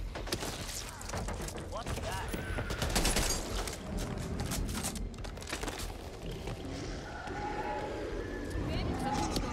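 Rapid gunfire from Back 4 Blood as zombies are shot with an assault rifle, dense bursts of shots running through the whole stretch alongside game noise and voices.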